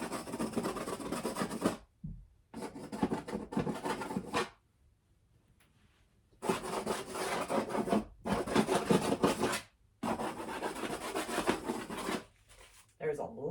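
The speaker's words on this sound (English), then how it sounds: "I'm gonna scrape into some of those that I just applied thick paint in." A tool scraping into thick, textured paint on an abstract canvas, a rough rasping sound in several loud bursts separated by short pauses, heard close up.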